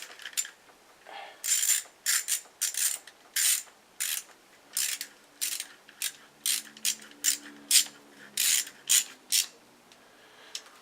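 Ratchet tightening a T30 bolt on a 2009 Audi A4 2.0L turbo engine, a close series of quick clicking bursts in a steady on-off rhythm, each run of pawl clicks loud against a quiet background.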